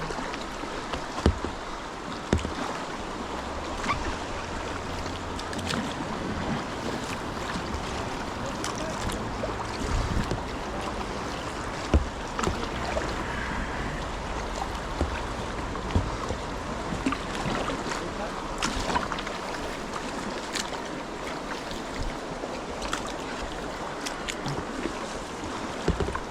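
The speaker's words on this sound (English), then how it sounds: "Forward paddle strokes" Forward paddle strokes drive a kayak through white water on a river, rhythmic splashes and dips heard up close over a constant roar of rushing rapids and wind.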